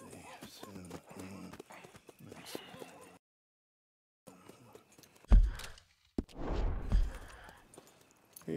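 Horse hooves clip-clop in an uneven rhythm under brief talk, followed by a louder burst of hoofbeats and rustling, a video game sound effect from Red Dead Redemption 2 on PC.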